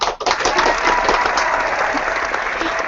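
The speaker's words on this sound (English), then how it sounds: "let's give ourselves a huge round of applause" Round of applause from an audience at a kids' storytelling event, dense continuous clapping held at steady strength, fairly loud and close, with no talk over it.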